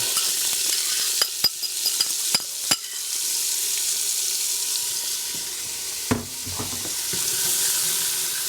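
Onion sizzles and fries in bacon fat in a pot, a steady close hiss broken by sharp scraping knocks of a spoon stirring, with no talk.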